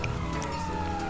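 A short burst of a wailing police siren in Grand Theft Auto Online sounds over steady background noise, with a sliding electronic tone.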